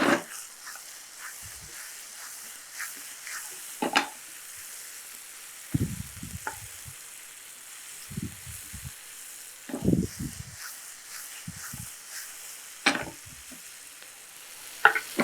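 Roasted mutton and okra added to a hot pan for a fry, giving a steady soft sizzle broken by repeated scraping stirs and short bursts of louder crackling, all close and with no talking.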